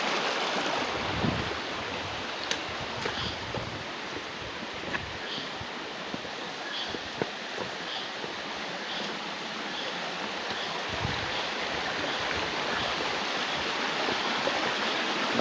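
Steady rushing of a river's flowing water, broadband and continuous throughout, with occasional small splashes and a little wind noise, recorded outdoors while setting fish traps along the river.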